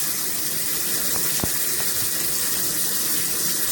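Cold water pouring from a bathroom tap into a drain, a steady, close hiss and splash with a faint knock partway through, continuous and unbroken.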